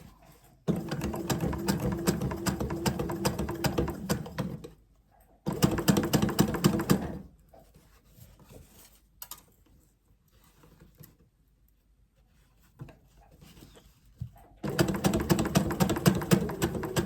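A sewing machine stitches fabric for a dog coat in two long, steady whirring runs with a short burst between them. A quiet pause with faint handling noise precedes a final run, and no one talks.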